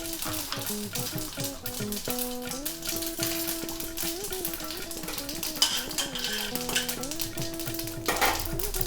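Mustard seeds and urad dal sizzling and crackling in a hot kadai, with occasional clinks of a utensil against the pan, partly buried under prominent melodic background music.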